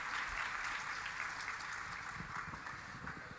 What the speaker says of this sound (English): Give them a warm round of applause, please.